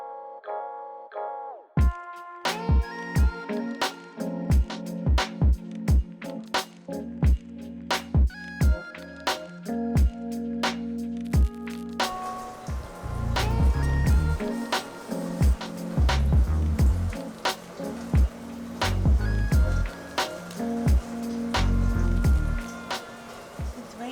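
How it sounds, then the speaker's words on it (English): Rain pelts a phone camera outdoors, with a dense patter of sharp, close drop impacts striking the lens and casing steadily throughout, some hits louder than others. "It's rainy, huh, man? Keeps clogging up the camera."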